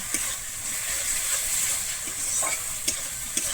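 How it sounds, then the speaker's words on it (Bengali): Spices frying with cashew paste in a pan for a Bengali steamed egg curry, a steady loud sizzle with occasional scraping stirs of a spoon. "কাজু বাটা দিয়ে কিন্তু আবারও খুব ভালোভাবে এখানে কষিয়ে নেব"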